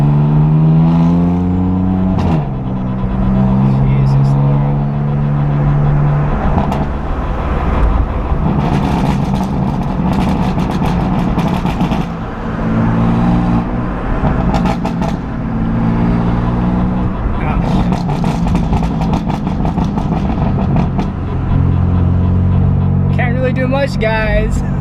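Loud BMW F82 M4 with a burble exhaust tune and upgraded clutches drives through street traffic, its engine repeatedly rising and dropping through gear changes while someone talks over it.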